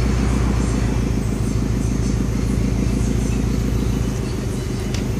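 A Subaru Impreza GF8 turbo engine idling, a loud, steady low rumble with an even pulsing throb that continues throughout without revving, close to the car and with no talking.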